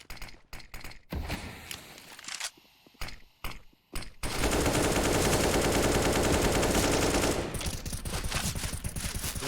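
Sharp AK rifle shots in Counter-Strike crack out first in separated single and short bursts, then give way to a long, loud, continuous spray of rapid fire lasting several seconds.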